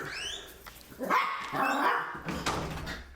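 A dog barks and whimpers indoors as someone closes the door and leaves, with a few close yips and whines in irregular bursts, alone without talk.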